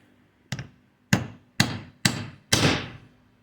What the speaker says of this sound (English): We're gonna center punch them right where our hole's gonna be.